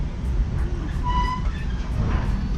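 A train runs on rails with a low, steady rumble and a brief high squeal midway, heard fairly faintly throughout.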